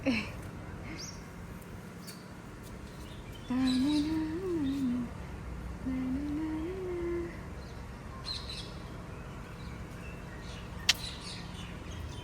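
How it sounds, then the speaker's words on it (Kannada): Sparse bird chirps and tweets outdoors at sunset, with a couple of longer warbling calls in the middle and a few sharp short notes, fairly faint against quiet background. "ಹಕ್ಕಿಗಳ ಚಿಲಿ ಕಿಲಿ ಅಷ್ಟು ಚೆನ್ನಾಗಿ ಕೇಳಿಸ್ತಾ ಇದೆ"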